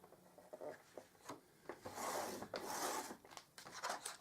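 Paper is scored with a scoring tool in a series of soft, close scraping and rubbing strokes, faint and irregular, with no talk.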